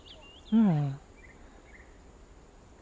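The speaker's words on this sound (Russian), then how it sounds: "Краснобрюшка перешибает этот звук." A fire-bellied toad calls once with a short low mournful hoot from a ravine on a May evening, fairly close, followed by faint distant bird notes and quiet ambience.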